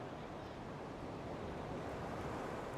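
Ocean surf and wind on an open shore while fishing, a constant broad roar of breaking waves and gusting air, fairly faint and steady throughout with no talk.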